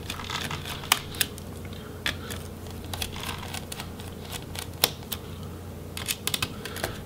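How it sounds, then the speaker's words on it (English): Small screws being backed out of the heatsink inside a Toshiba Satellite L50D laptop, heard as close, light scattered ticks and clicks with no talk. "we'll go ahead and remove the heatsink screws as well"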